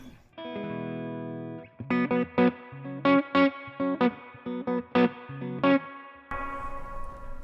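Clean electric guitar tone through a Walrus Audio 385 overdrive pedal: a sustained strummed chord rings out, then a run of short rhythmic plucked chords and notes, played alone with no talking.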